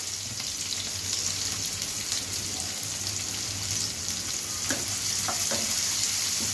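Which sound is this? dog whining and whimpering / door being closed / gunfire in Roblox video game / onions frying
onions frying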